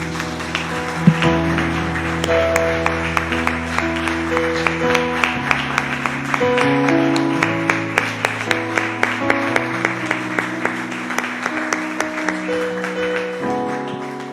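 A church congregation claps in praise to the Lord over sustained organ or keyboard chords, the claps blending into a steady rhythm that continues throughout under the music.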